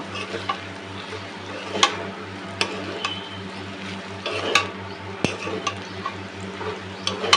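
A spoon stirs turmeric through food frying in a pan for a simple home-cooked dal and fried potato meal, giving soft scraping clinks over a steady low sizzle and hum, with no voices.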